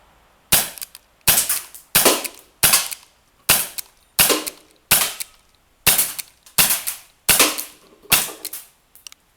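Shots from a 2-joule P11 airsoft pistol fired at targets, twelve sharp snapping cracks at a steady rhythm of roughly one every three quarters of a second, each with a short ringing tail, close and loud with no talking.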